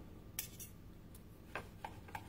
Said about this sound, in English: It's just cutting with such ease.